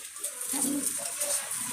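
Pigeons of wild Dhaka Jalali stock coo in soft, low, rolling calls, a few repeated coos close by over a steady hissy background, with no talking.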